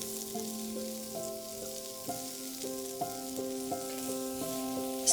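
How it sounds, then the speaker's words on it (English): White globe-shaped Japanese turnips sauté in a pan with a soft, steady sizzle under light tonal music, faint and continuous, with no talk. "Here we start by sautéing our white globe-shaped Japanese turnips."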